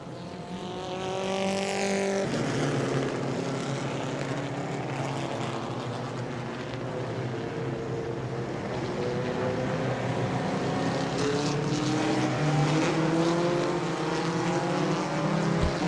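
Sprint cars roar around a dirt track at the Southern Sprint Car Shootout Series in Auburndale, loud sustained engine drones rising and falling in pitch as the field passes, continuous throughout.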